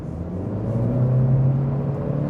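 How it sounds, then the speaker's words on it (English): An Acura Integra with a CVT accelerates on a road, a steady droning engine hum and rumble heard from inside the car, smooth and continuous with a faint rising whir. "accelerating down some of these roads is actually pretty good."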